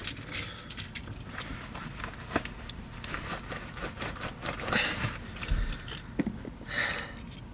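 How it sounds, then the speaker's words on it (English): A ring of keys jangles and clinks up close as it is pulled out, with irregular metallic rattles throughout and a few sharper clinks. "Alright, now I'll take my keys out."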